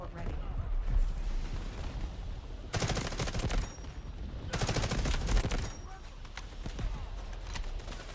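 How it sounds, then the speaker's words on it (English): Artillery and gunfire in the Delta Force video game: dense bursts of heavy fire boom in two long volleys with shorter cracks in between. A voice talks over parts of the barrage. "There's artillery on us."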